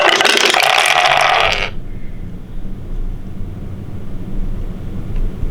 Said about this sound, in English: The 10 Scourge bombers begin their attack run on the Glorious.